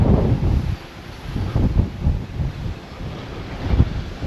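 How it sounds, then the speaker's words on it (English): Strong gusting wind buffets the microphone at the Portsmouth Naval Memorial, a loud low rumble surging and easing in uneven gusts throughout, with no voices. "it's far too windy for my drone today"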